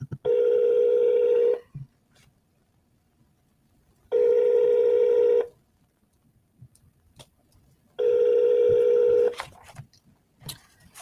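A Google Voice phone call: three long, steady ringback tones sound at even intervals of about four seconds, loud and close, with quiet gaps between and no talk.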